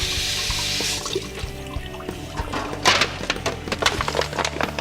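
A whole brined turkey being rinsed under a running kitchen tap, water splashing steadily against the bird and sink with irregular wet knocks and handling sounds, close and moderately loud throughout.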